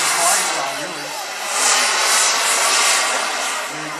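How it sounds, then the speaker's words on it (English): A model hover jet flies at an outdoor model aircraft show, its steady turbine whine and airy hiss swelling and fading as it moves nearby, with faint talk underneath. "This airplane is pretty generous on the flight side, really."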